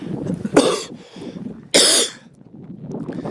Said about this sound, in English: Man, I'm laughing so hard I'm coughing